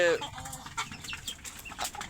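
Chickens cluck on a farm during rain, with short, moderately loud calls at the start followed by scattered softer clucks over steady background noise.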